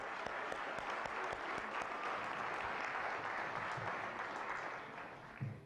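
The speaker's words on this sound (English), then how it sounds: "Let's give the brothers and sisters with God Collective a big round of applause" A crowd applauds the God Collective group at a Toronto African community event, with dense, sustained clapping that holds steady and then tapers off in the last second.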